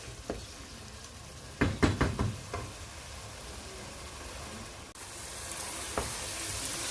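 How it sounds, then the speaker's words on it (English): Tomatoes for pilau fry in a pan with a steady soft sizzle, broken by a quick cluster of spoon knocks and stirring scrapes against the pan, then a single later clink. "maybe 2 minutes to allow the tomatoes to cook, to crush up"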